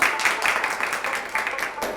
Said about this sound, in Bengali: সবার জন্য একটা হাততালি হয়ে যাক।